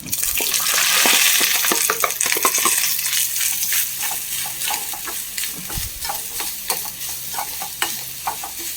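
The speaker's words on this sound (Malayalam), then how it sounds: "നന്നായി ബ്രൗൺ കളറാവണം വരെ ഒന്ന് വറുത്തെടുക്കാം." Mustard seeds, dried chillies, curry leaves and coconut frying in hot oil for a tempering, loud crackling sizzle with rapid pops and stirring scrapes, dense at first and easing slightly.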